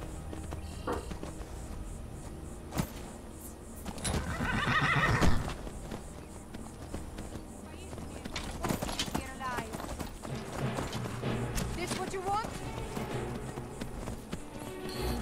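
In the Skyrim video game, a horse whinnies loudly midway while hooves clip-clop at a walking pace throughout, mixed with game sounds and someone talking over it.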